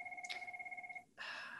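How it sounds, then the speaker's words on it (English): Office telephone ringing in a clinic, an electronic two-tone warble trilling rapidly for about a second, a brief pause, then another burst, faint in the background. "That's why the phone is ringing."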